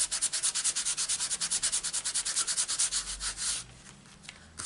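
Rapid, steady back-and-forth rubbing of an embossing buddy over paper for stamping, a close scratchy swish repeating about every fifth of a second, then easing into softer, fainter strokes near the end.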